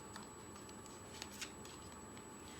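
Tarot cards being shuffled, soft papery riffles and light taps, faint and close in an otherwise quiet room.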